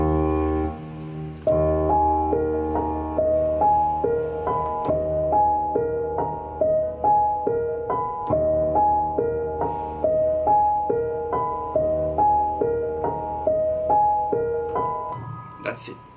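Piano melody doubled by a low piano bass line in a hip-hop beat, repeating notes in a steady looping rhythm with each attack decaying, loud and alone.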